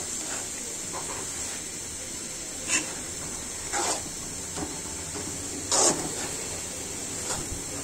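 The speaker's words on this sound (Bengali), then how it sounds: "দেখুন অল্প মাংসে মুরগির মাংস দিয়ে আমি বাঁধাকপিগুলো ভেজে নিচ্ছি আজকে।" Cabbage fries with a little chicken in a pan, giving a constant hissing sizzle with a few louder spits and stirring scrapes breaking through at intervals, and no voices.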